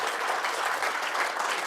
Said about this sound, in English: So I wonder if we might give George a round of applause for being such a wonderful scholar behind this incredible work